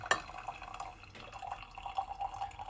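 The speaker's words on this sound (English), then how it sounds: "There's our little pre-rinse of our filter." Hot water poured over a Melitta pourover paper filter as a pre-rinse, a soft trickling and dripping stream with light splashes, fairly quiet and close.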